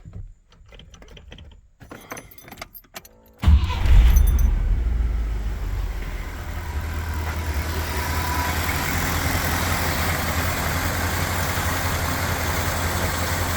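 A carbureted Range Rover Classic engine cranks and fires on a cold start, surging loudly at first before settling into a steady, smooth idle close by.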